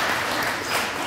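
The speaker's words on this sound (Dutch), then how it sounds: "applaus voor Peter alvast" Audience applauding for Alderman Peter Ploegaert at the Groot Junior Dictee in the Belfort, Sluis, a brief steady patter of clapping hands filling the room.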